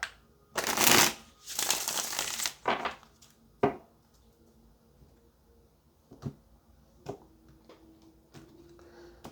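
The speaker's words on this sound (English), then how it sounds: "let's get one more shuffle and then let's get it out" A deck of tarot cards is shuffled close up, with a couple of loud riffling bursts followed by scattered soft taps and card clicks in a quiet room.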